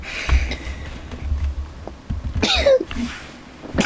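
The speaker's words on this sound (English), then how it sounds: "Sneezes" A single sharp sneeze bursts out near the middle during a game of UNO, close and loud, amid quiet background noise.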